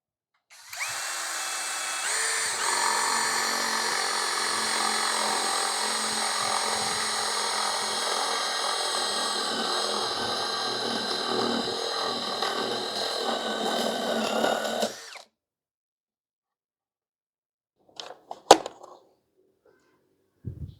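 A Tecepo 21V cordless drill bores a hole, running at a steady loud whine for about fifteen seconds before stopping, followed by a few brief clicks and knocks.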